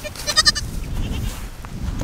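Goats bleat repeatedly in a Kiko and Spanish goat pen on a farm, a cluster of near, loud cries early on, then a steady background rumble with faint animal sounds.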